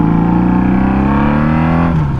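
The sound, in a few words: Honda Magna motorcycle spinning its back tire during a wheelie attempt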